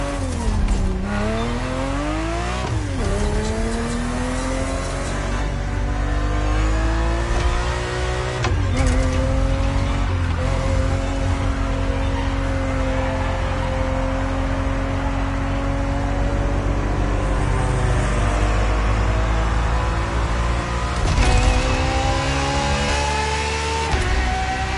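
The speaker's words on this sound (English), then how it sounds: "365 GTB4 is the perfect vehicle for you to experience Ferrari racing as it felt back in the 70s." A Ferrari 365 GTB4 racing car from the 1970s in a video game, its engine revving loudly and continuously through rising and falling gear sweeps, with brief tire squeals and no talk.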